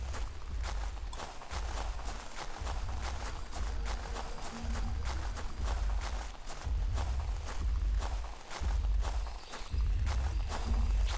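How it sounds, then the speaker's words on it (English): Heavy Giganotosaurus footsteps from the hunting game Prehistoric Hunt thud rhythmically, deep booming impacts about once a second that march on steadily with no voices. "Oh, I hear the footsteps."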